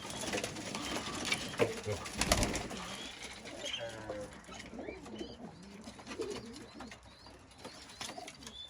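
Turkish fancy pigeons coo softly in a low, rolling murmur, several birds overlapping, with faint background bustle and occasional knocks.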